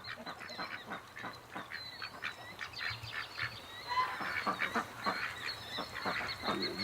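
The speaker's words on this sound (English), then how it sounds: "Canada Geese right there while I'm walking up." A flock of Canada geese honks repeatedly in an overlapping, uneven chatter, fairly close and continuous, with a low hum underneath.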